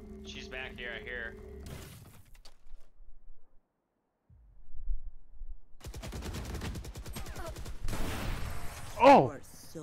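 Video game gunfire in Valorant, shot through a wall: a dense run of rapid automatic fire for several seconds, moderately loud amid other game sounds, ending in a sharp louder burst.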